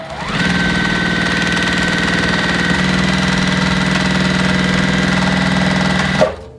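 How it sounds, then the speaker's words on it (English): A sewing machine stitches a quilt strip set in a steady, fast mechanical whir, running continuously for several seconds at close range before stopping abruptly with a small clunk. "I'm going to go ahead and sew up this next one here."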